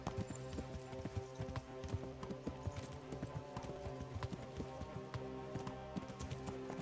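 A horse gallops along in the video game Kingdom Come, hooves clip-clopping in a quick, steady rhythm close by, with a faint hiss in the background and no speech.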